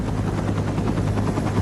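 A rescue helicopter departing a canyon at night, its steady rotor chop throbbing loud and close in a continuous rhythmic pulse with no voices.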